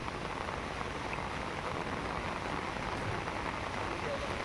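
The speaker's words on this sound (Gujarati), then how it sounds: "ભારે વરસાદ ખાબકતા ચોતરફ પાણી પાણી થઈ ગયું" A steady, dense wash of falling rain, a constant hiss without pauses or distinct drops.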